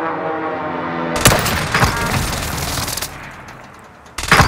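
Airstrike explosions in Call of Duty: Warzone Plunder on the Pacific map, a sudden loud blast erupting into a rattling cascade of cracks and debris that fades, followed by another sharp hit at the end.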